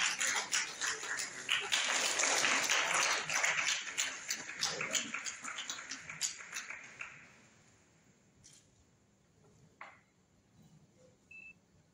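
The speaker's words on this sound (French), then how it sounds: "Je vous demande de vous applaudir vous-même" Students at a Senegalese national essay competition ceremony applaud themselves, a loud burst of clapping that fades out after about seven seconds into quiet with a few faint beeps.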